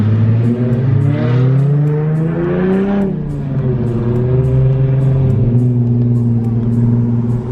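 A car engine revs up, drops and holds a loud throaty exhaust drone, close by, with a rising and falling pitch.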